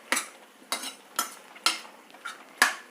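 Cooked dal and green chillies mashed in a pot, about six separate scraping, clanking strokes spaced roughly half a second apart, close and fairly loud, with no voices.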